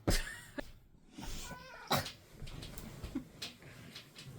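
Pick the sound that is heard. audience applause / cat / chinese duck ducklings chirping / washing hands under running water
cat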